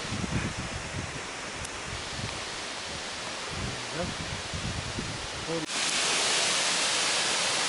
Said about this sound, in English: You see the waterfall there?